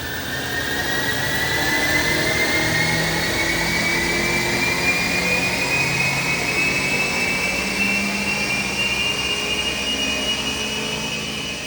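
Abarth car with a custom ECU remap revving on a dyno, a loud sustained engine drone with a slowly rising pitch, steady and close with no talk.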